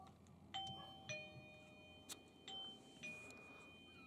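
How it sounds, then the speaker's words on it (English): Eufy S210 battery-powered doorbell camera chime, a faint series of bright ringing tones repeating at roughly half-second intervals against a quiet background. "If I ring the doorbell"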